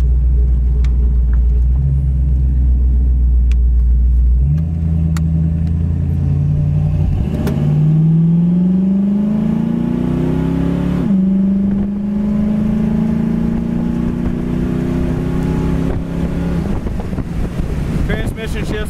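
A 1966 Ford Mustang convertible engine pulls steadily while driving, its low rumble rising in pitch through a gear change, with heavy wind buffeting the open car throughout.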